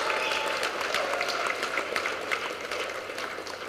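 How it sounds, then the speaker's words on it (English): Guests at a judicial reception give a round of applause for a judge: moderate, fairly sparse clapping with distinct individual claps audible, steady across the whole stretch and easing slightly near the end. "I'd just like to have you give her a great round of applause"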